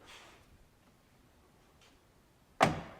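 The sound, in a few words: car door closing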